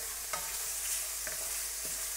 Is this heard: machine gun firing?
no